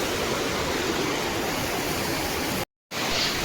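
Subhedar waterfall, about 150 feet tall, roars steadily as a dense broadband rush of falling water, loud and continuous with a brief dropout near the end.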